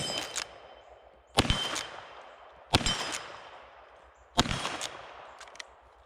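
Four sharp lever-action rifle shots ring out at roughly one-second intervals, each a crisp crack followed by a metallic ringing tail, with faint mechanical clacks of the lever cycling between them.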